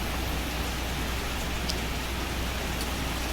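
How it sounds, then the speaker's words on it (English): Steady, dense rain during a storm, heard from under a covered deck as an even wash of patter with no pauses throughout. "I'm out there watching the storm and looking at the rain."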